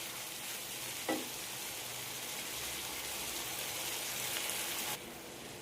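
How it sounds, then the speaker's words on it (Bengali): Chicken fries on high flame in a pan, a loud, steady, close sizzle with a brief stir clatter near the start, then the hiss drops sharply toward the end. "এবার চিকেনটা আমি 3-4 মিনিটের মতো ফুল আঁচে ভেজে নেব, উল্টো পাল্টা করে।"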